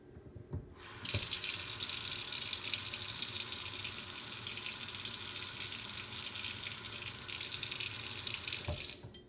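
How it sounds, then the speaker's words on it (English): A kitchen or utility tap is opened and runs steadily, a continuous close hiss of flushing water that starts after a second and stops just before the end. "we'll come the Friday before and flush the water from the tap for 1 to 2 minutes"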